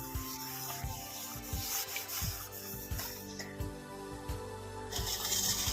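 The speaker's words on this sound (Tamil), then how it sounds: "நாரை எடுத்து லைட்டாக தேய்க்கிறேன்" Fibre scrubber rubbed lightly back and forth with lemon over a surface, making continuous close scratchy scrubbing with a steady rhythmic stroke.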